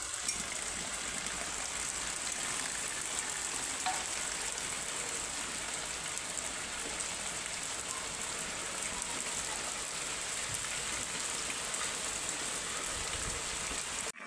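Steady rain pours down outside a mud-walled house, a dense, unbroken hiss of drops drumming on surfaces for the whole stretch, fairly close and with no voices.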